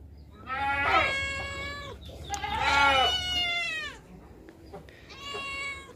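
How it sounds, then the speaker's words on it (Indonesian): A kitten meows three times, close and clear, with drawn-out cries separated by short quiet gaps and faint background noise between. "Anak kucing iki lho."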